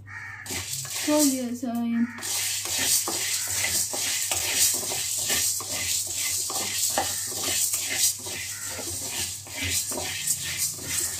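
Sago pearls roasting dry in a pan, with steady rhythmic stirring and scraping strokes over a light sizzle and a voice briefly at the start.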